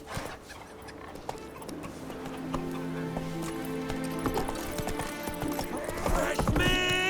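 Horse hooves clip-clopping in The Witcher 3: Wild Hunt, a steady rhythmic trot that quickens toward a gallop over game music and ambience, with a brief neigh-like call near the end.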